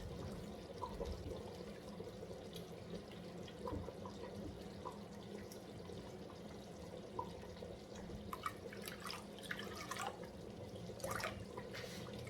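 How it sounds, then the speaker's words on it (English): Water trickles and splashes into a pot of banga soup, faint and steady, with scattered drips and small clinks, no voices. "I will be adding a little bit of more water."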